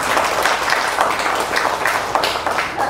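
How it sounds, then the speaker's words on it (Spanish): Guests at a 60th wedding anniversary celebration applaud in praise of the Lord, a moderately loud, rhythmic crowd clapping that continues steadily throughout. "Podemos darle más aplausos al Señor"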